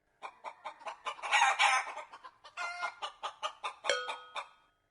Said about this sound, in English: Nine chickens.